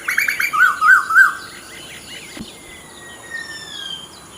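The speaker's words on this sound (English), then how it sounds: "Birds chirping." Several birds chirp and trill outdoors in quick, bright bursts at close range, then fade to softer, scattered calls over a quiet background with crickets.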